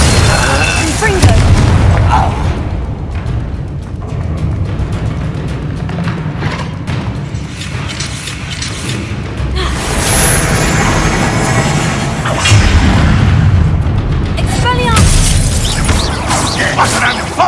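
Confringo blasting-spell explosions in a Harry Potter video game, loud booming bursts that swell repeatedly over a dense, continuous game soundscape with a voice speaking at times.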